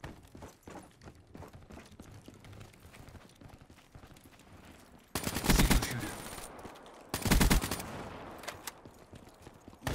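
Gunfire in a Black Ops 3 Team Deathmatch match, with quieter shots and clatter early on, then two loud, dense bursts of firing, and a short sharp blast at the very end.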